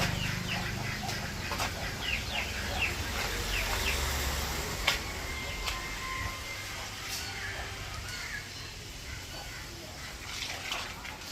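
Chickens clucking in a backyard, the intermittent calls and chirps spread across the clip over steady background noise, fairly faint and mid-distance.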